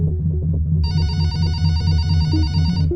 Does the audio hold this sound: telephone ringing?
yes